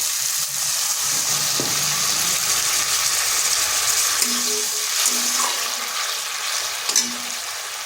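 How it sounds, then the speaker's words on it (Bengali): Tomatoes and salt fry in a pan as a little water goes in, giving a steady close sizzling hiss throughout with a few soft stirring knocks. "এখানে দিচ্ছি সামান্য একটু জল।"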